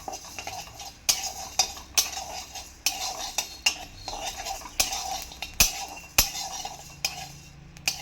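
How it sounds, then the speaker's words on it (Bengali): Rice frying in a pan as a snack, rhythmic scraping and clinking of a metal utensil stirring against the pan every second or so over a faint sizzle. "এইটুকু একটু করে ভাজতে হবে, বেশি দিলে কিন্তু হবে না"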